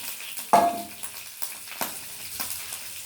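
Fenugreek seeds and small onions drop into hot oil with a sudden burst of sizzling, then frying continues with a few scraping stirs, close and fairly quiet, with no voices.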